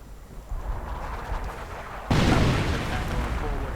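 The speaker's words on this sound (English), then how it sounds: "sounds like a mine went off right there" A mine blows up in a World War II strategy video game, a sudden heavy boom that cuts in abruptly and leaves a broad rumbling wash behind, over low battle ambience.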